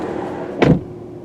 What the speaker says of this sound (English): I like the way the doors shut. Very precise.